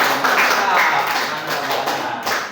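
Students in a classroom clap for a classmate who answered a history question, a steady patter of hands under lively chatter and voices.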